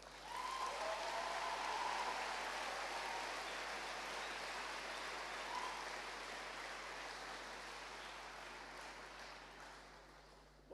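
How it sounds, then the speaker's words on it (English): A large audience applauds at a university first-years welcoming day, a dense, distant wash of clapping that holds steady, then slowly fades toward the end. "we need to give the organizing team another big round of applause"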